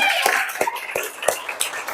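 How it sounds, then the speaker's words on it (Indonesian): Students in a class clap in a slow, regular rhythm, about six sharp claps spaced roughly a third of a second apart, close by, with voices talking over them. "kasih tepuk tangan dulu untuk kalian semua"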